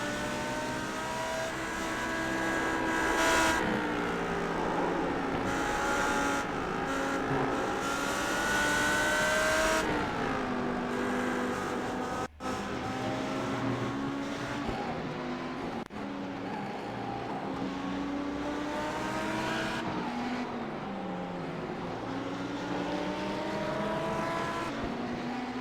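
Audi race cars in the iRacing sim at the Nürburgring 24 Hour, engines droning and revving continuously with rising and falling pitch as they shift gears, loud and close throughout with no talk.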